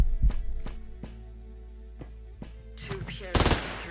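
Shots ring out in Quasimorph as sparse, spaced single reports over a steady low hum, ending in a denser, louder burst of fire, with no talk.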